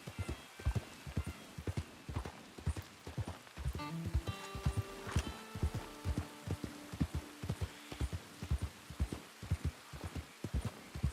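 Horse hooves in the Red Dead Redemption 2 video game clop steadily in an even walking rhythm, with a brief run of tack or bell-like jingles partway through and no voices.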